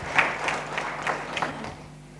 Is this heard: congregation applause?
yes